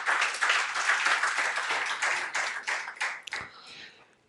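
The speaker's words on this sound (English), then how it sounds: "So please give my panelists a round of applause" Dense audience applause for conference panelists at a power-sector dialogue, steady and fairly loud, then thinning into a few scattered claps before fading out.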